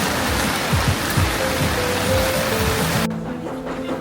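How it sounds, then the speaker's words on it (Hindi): Heavy rain roars steadily over an Osaka city street with a few low thumps, then cuts sharply to a quieter, muffled tone near the end. "बाहर तो बड़ी ज़बरदस्त बारिश शुरू हो गई।"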